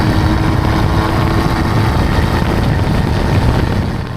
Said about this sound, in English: Through the main straights, absolutely thrashing everything I can out this thing, learning where the engine's sweet spots actually is.